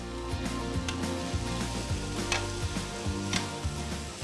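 Spring onion leaves being stirred into veg soya noodles frying in a pan: a steady sizzle with repeated scraping and tossing strokes, close and continuous, with a tonal background running underneath.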